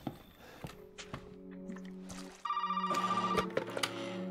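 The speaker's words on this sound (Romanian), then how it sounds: "Nici n-am ieșit bine că sună telefon." A telephone rings in a game, with repeated ringing tones and electronic beeps over background game sounds, getting louder partway through.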